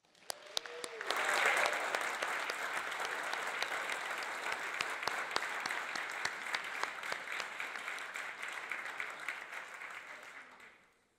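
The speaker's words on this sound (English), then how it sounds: "I'd like to have a round of applause for the Vermont Symphonic Winds." An audience at an outdoor anniversary celebration gives sustained applause for the Vermont Symphonic Winds, a dense wash of clapping that swells quickly and holds steady for about ten seconds before fading.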